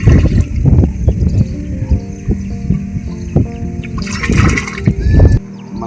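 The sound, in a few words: stirring pesticide into a tub of water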